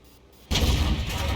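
A single heavy tank cannon blast in World of Tanks, a sudden loud boom after a brief quiet lead-in, its low rumble sustained and fading slowly.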